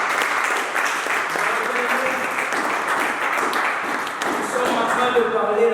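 A church congregation applauding at a French-language service, dense sustained clapping from many hands filling the room, loud and even throughout, with voices mixed in under it.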